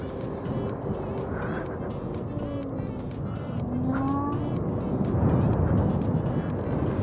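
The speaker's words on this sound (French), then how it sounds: "J'aime beaucoup le bruit de cette roue quand elle accélère" Kingsong S20 electric unicycle accelerating, a steady broadband road-and-motor roar with faint rising whine tones that swell slightly louder toward the end.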